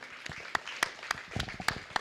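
Scattered claps from a small audience at a county fair 4-H and FFA poultry show, a handful of separate sharp hits spread unevenly across a couple of seconds, fairly faint and distant.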